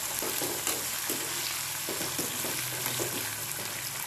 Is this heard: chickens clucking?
no